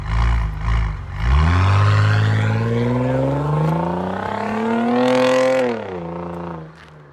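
A 2008 Saab 9-3 Turbo X engine revs up close, climbing smoothly in pitch, holding high, then dropping back toward idle, loud and alone with no talk.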